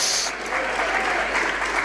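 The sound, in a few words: congregation applauding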